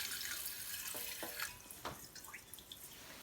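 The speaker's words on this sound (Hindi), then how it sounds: "अब हमने चावलों को वॉश कर लेना है बहुत अच्छे तरीके से।" Rice is washed in water at close range, with running and splashing water, soft drips and a few brief sloshing bursts, quiet and without speech.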